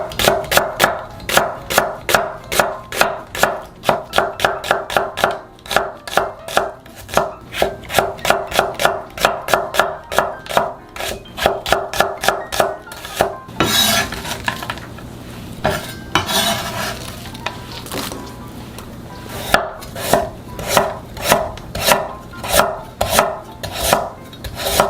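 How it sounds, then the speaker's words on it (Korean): A knife julienning an onion on a cutting board in rapid, even strokes, close and crisp; it pauses with a few softer handling noises, then resumes. "양파 1개도 채 썰어주세요"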